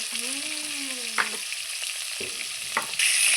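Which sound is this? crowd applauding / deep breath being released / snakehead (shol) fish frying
snakehead (shol) fish frying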